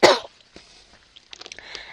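A single sharp, close cough bursts out at the start, followed by near quiet and then faint rustling and small handling noises.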